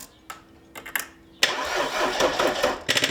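Audi car engine cranked over, with short starter bursts and then a longer rough cranking and firing stretch that ends abruptly. It is loud and close, with no talking.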